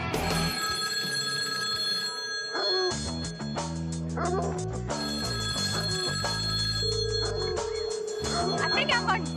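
An old red telephone rings repeatedly on a concert stage at the Grand Ole Opry, the ringing heard over loud band music and crowd noise.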